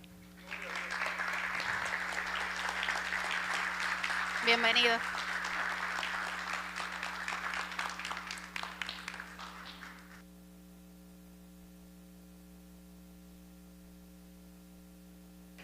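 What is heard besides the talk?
church congregation applauding to welcome speaker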